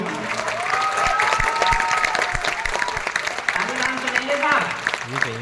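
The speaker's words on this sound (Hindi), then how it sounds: "तालियां जोरदार तालियां हाथ उठा करके" Audience at a Hindi poetry recital breaks into loud, sustained applause with some cheering, while someone speaks over the clapping.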